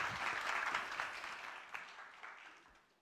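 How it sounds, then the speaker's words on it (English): An audience at a global report launch applauds warmly, dense clapping that is loudest at first and slowly thins and fades over three seconds. "A big warm applause."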